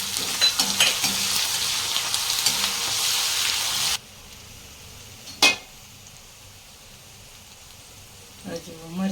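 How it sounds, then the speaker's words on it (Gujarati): Curry leaves sizzling in hot oil in a pan, a loud steady hiss that drops abruptly to a quieter simmer partway through, with a couple of metallic clinks and brief talk near the end. "મીઠા લીમડાના પત્તા નાખીશું"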